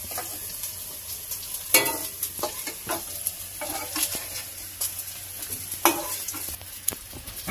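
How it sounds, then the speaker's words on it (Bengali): Potatoes and green banana fry in hot oil in a pan during Bengali village cooking, a steady close sizzle broken by scraping stirs and occasional clinks of the utensil against the pan. "এই আলুগুলো ভালো করে ভাজা ভেজে নিই। তো কাঁচকলা আর আলু একসঙ্গে দিয়ে দিলাম।"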